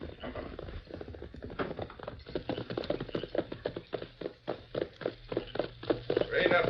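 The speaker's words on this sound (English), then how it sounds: "Now I can hear those hoofs?" Horse hooves clop in a quickening rhythm, growing louder as they approach, over a muffled, low-fidelity background.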